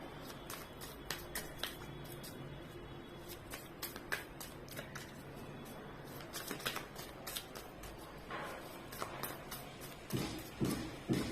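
Quick papery riffling and soft tapping of tarot cards being shuffled close by, in repeated bursts with small pauses between.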